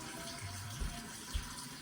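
Tap water runs steadily into a measuring cup in a home kitchen, a soft continuous trickle with a couple of brief low knocks, fairly quiet and close.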